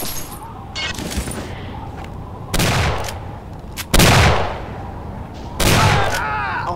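Gunfire in Doom 2, map 24 of Dark Encounters: several loud, sharp shots in separate bursts with ringing tails, one on top of another, between quieter stretches.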